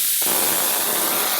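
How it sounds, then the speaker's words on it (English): A Chief steamer fogger bursts into a loud, close, continuous hiss of spraying steam after a brief quiet start, steady and unbroken to the end, with no talk. "We start to spray steam"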